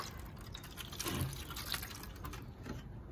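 Water poured into a seed tray of soil for broccoli seedlings, a soft close trickle and splash lasting a few seconds, faint and alone with no voices.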